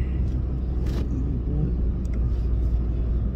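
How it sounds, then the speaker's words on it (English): A Toyota GR Corolla in sport mode pulls hard in second gear, a steady low engine rumble and road drone filling the cabin at constant loudness, with no voices. "Let's do a little second gear pull here"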